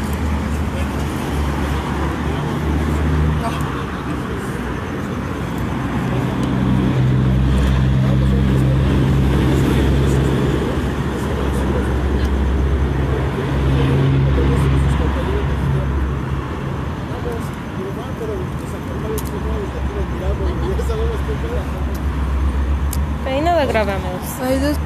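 Continuous road traffic outside an abandoned Burger King in Ecatepec: a loud, steady rumble of passing cars with a deep engine drone throughout, and voices faintly mixed in at times.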